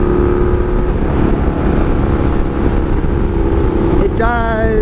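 A 1982 Honda Magna V45 VF750C cruising in sixth gear with its clutch losing pressure, the V4 engine droning steadily and loudly up close with constant wind rush throughout.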